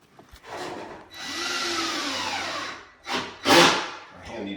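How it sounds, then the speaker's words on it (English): A power sander grinds across half-inch plywood in bursts, first a long steady whir of about two seconds, then shorter loud passes, close to the microphone with no talking. "More sanding."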